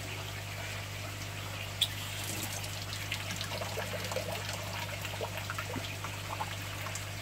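Purified water from an aquarium reverse-osmosis unit slowly trickles into a bucket, a soft, steady dribble with faint splashes over a constant low hum, heard alone without talk.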